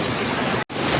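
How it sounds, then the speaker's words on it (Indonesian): A swollen river after rain rushes past in a strong current, its dense, steady roar filling the scene, broken by one very brief dropout. "Arus yang sangat deras, yang karena volume air ini bertambah secara signifikan karena hujan tadi kawan-kawan."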